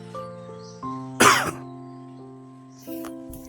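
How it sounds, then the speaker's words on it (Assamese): A single harsh cough bursts out at close range, short and loud, with a lighter throat-clearing rasp after it against a steady background hum. "কাহটো ইমান ভালকৈ যোৱাই নাই,"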